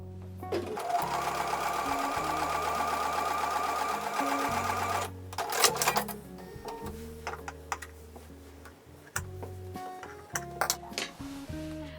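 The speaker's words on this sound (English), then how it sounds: "I'm going to go over to the sewing machine and sew with a 1/4 inch seam" A sewing machine sews a quarter-inch seam on a quilt block in a long, steady close run, followed by shorter stop-start bursts and a few clicks.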